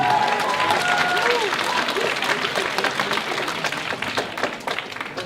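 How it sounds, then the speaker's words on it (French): An audience applauds the teachers after a school band-battle performance, dense sustained clapping and crowd noise filling the hall, fairly loud and steady with a few cheers over it. "On applaudit les profs, sérieux."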